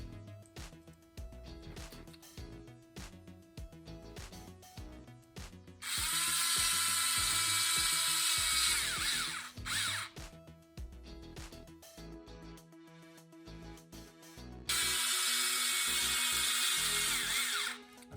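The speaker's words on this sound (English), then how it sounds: "So we got our body mounts in the tower, and we just have to put the screws in." A power driver runs titanium screws into the shock tower of a Team Associated RC10T6.1 stadium truck in two sustained whirring bursts, with clicking and handling of small parts between them, close up and with no talking.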